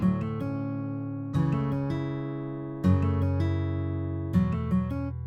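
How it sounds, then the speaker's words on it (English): Clean virtual guitar chords from a DSK Dynamic Guitars plugin in FL Studio, used for a happy trap beat, ring out in a rhythmic pattern, with a new strummed chord arriving about every one and a half seconds and sustaining in between. "the first thing I pulled up was this guitar VST called DSK Dynamic Guitars"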